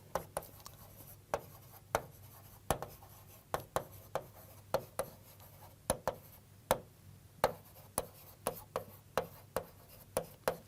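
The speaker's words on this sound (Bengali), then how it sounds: "আমি একটু আলাদা করে একটুখানি এখানে লিখি জিনিসটা।" A teacher writes notes, producing sharp, irregular taps and strokes of a pen or marker, close and faint, repeating throughout against a quiet low hum.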